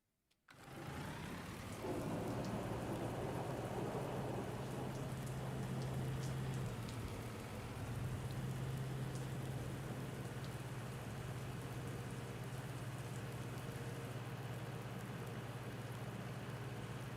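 Steady rain hisses in the Farming Simulator 19 video game, a constant dense wash of falling drops with a low rumble underneath, continuing without pause after a brief silent start.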